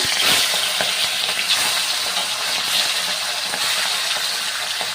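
Hilsa fish heads frying in mustard oil, a loud, continuous close-up sizzle and crackle with occasional stirring clinks and no one speaking.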